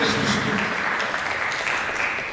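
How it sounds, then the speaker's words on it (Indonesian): A church congregation claps for Jesus during a service, a dense, sustained wash of applause that slowly tapers off. "Mari kita berikan tepuk tangan bagi Yesus Kristus."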